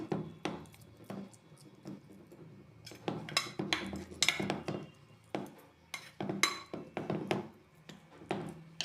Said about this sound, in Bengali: একটা চামচ দিয়ে এক জায়গায় করে দিচ্ছি।